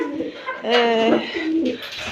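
Pigeons coo in a backyard coop on a small poultry farm, a couple of soft, throaty cooing calls rising in the middle and trailing off, close and moderately loud.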